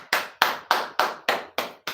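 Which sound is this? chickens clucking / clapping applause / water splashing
clapping applause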